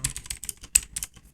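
Fast irregular clicking of keys on a computer keyboard while coding, close and crisp, with small bursts and pauses and no talking.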